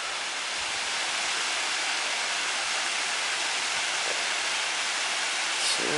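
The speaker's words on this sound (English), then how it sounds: "Quite a bit of water coming down there, really." Waterfall at Shangri-La Arch, Carter Caves, Kentucky, giving an unbroken hissing roar of falling water, near and even in level throughout, no speech.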